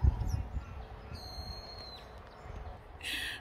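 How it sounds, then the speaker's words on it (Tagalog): Birds chirping on a farm in summer, short high calls and a longer whistled note scattered over the outdoor background, with a brief burst of brighter chirping near the end. "Narinig mo, puro ibon na na."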